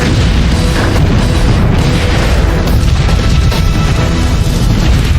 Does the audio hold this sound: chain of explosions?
yes